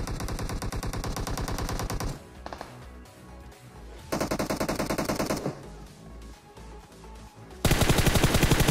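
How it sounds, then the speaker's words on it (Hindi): Rapid machine-gun fire from M249 and DP-28 weapons in the mobile battle royale game PUBG Mobile, loud sustained bursts broken by brief pauses, with a final heavy stretch of continuous shooting. "सामने से और भी खतरनाक फायरिंग आ रही है"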